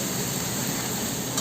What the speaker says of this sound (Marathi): वाटणाला मस्त तेल सुटेपर्यंत भाजायचं आहे किंवा शिजवायचं आहे